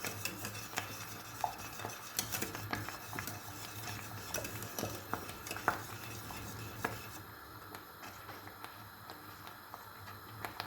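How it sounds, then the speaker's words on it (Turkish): A Turkish kuş lokumu milk pudding mixture with melting butter is whisked and stirred in a pot: steady scraping and light clinking of a utensil against metal, close and continuous, with no talking. "Rengi de o şekilde yağ eriyene kadar çırpalım, karıştıralım."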